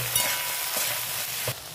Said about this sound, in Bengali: সিম বেগুনটা ভেজে নিয়েছি হালকা করে।